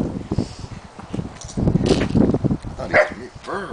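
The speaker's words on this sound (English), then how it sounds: "I heard him bark." A dog barks a few times amid scuffling and movement noise, fairly close, with short sharp bursts scattered through the clip.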